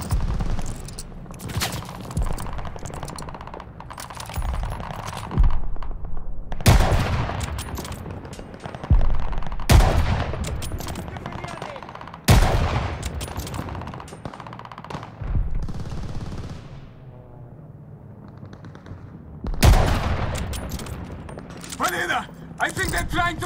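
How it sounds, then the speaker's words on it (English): Heavy gunfire in the Call of Duty Vanguard video game, coming from above near a hotel lobby: loud bursts of automatic fire and single shots recur in waves, with shouted voices in between. "We are getting shot from above!"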